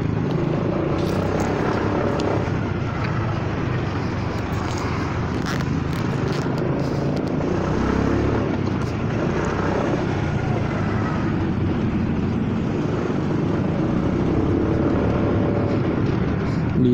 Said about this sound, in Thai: ยินเสียงเครื่องยนต์อันใหญ ่มันมองนะครับว่ารถอะไรมันก็เป็นมอเตอร์ไซคันใหญ ่